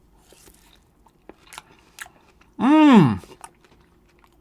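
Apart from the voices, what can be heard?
biting and chewing durian fruit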